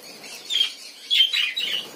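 Parakeets in a breeding colony give bursts of high chirps and squawks, several overlapping calls in quick clusters over a faint background, with no one speaking.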